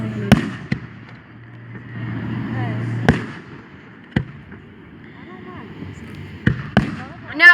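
Fireworks go off at a Fourth of July show: several sharp booms and cracks ring out irregularly at moderate distance, some followed by crackling, with a low steady rumble and people talking nearby throughout.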